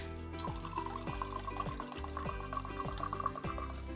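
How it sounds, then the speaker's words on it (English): Tonic water pours into a jar already holding vinegar, a close, steady gurgling stream whose pitch climbs as the jar fills, without speech. "And then we'll add about the same amount of tonic water."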